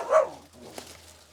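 A dog gives one short bark followed by fainter yips, heard outdoors at a plant-gathering spot in Jamaica, with a low steady hum underneath.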